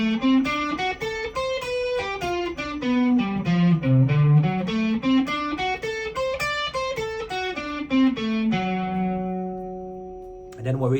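Two blues arpeggio shapes joined on electric guitar form a steady run of picked single notes that climbs, falls and climbs again before settling on a ringing held note, played alone and up close.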